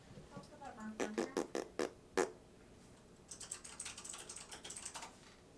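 Typing on a computer keyboard: a quick burst of sharp, close key clicks, then a pause, then a softer run of rapid tapping, with a voice murmuring faintly in the background.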